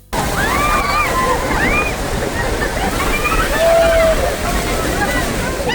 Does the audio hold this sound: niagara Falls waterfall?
yes